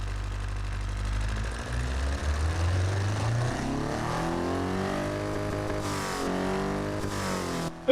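A carbureted four-cylinder engine in a 1950s-style roadster, simulated in a video game, revs up from a low idle to a climbing, buzzing whine that holds steady at high revs, heard alone and close.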